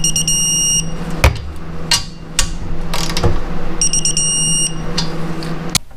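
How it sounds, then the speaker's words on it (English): Torque wrench tightening bolts on a 2006 Harley-Davidson Ultra Classic during cam chain tensioner replacement: quick ratchet clicks and metallic knocks, with a steady electronic tone sounding at the start and near the end. "Tightening these bolts 14 foot-pounds."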